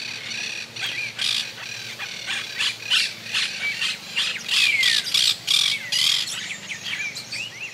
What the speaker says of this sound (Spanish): Es frecuente la presencia de los martines pescadores.